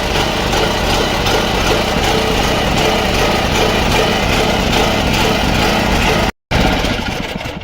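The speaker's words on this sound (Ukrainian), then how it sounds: "Генератор працює з перебоями." A Champion CPG4000E1-EU 3.5 kW petrol generator with electric start runs loud and close with a rough, buzzing engine drone that cuts out for a moment, then picks up again and begins to fade.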